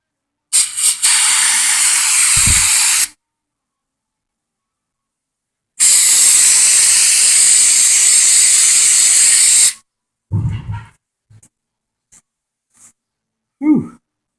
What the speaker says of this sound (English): I'm going to see if we can rinse it off now with brake clean